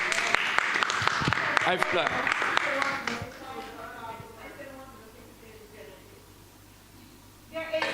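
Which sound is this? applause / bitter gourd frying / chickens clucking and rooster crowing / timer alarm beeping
applause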